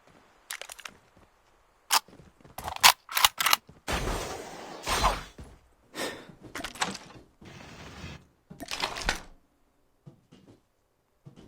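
Gunfire in the COD Mobile video game, a machine pistol season, crackling in irregular short bursts and single shots with a few louder sustained volleys, fairly close and with no talk.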